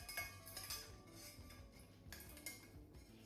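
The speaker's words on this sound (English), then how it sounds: "Sorry if you can hear Poppy having her dinner in the background" A pet dog eats dinner from a bowl in a kitchen, giving faint, scattered clinks and clatters of bowl and kibble well in the background.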